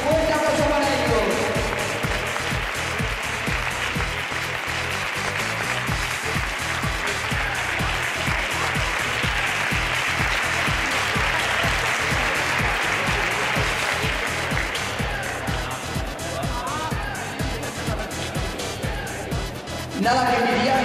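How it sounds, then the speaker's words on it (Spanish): Long, steady applause for the players of a sports club presentation event, a dense crowd clapping loudly throughout with a faint voice underneath toward the end. "¡Fuerte aplauso para ellos!"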